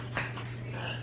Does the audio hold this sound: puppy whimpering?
yes